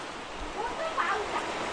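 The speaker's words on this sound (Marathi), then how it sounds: "आणि बाहेर पाऊस बघा किती लागता तो." Heavy monsoon rain falls outside a house in the Konkan region as a continuous broadband hiss, heard from indoors with a faint voice briefly over it.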